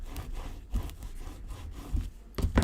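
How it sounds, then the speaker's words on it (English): Folded paper is rubbed down by hand in a kaleidoscope-style paper craft, a steady soft scraping friction close up, with a few louder swipes toward the end. "then I'm going to close that and just rub it down"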